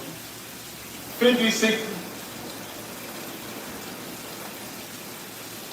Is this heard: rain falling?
yes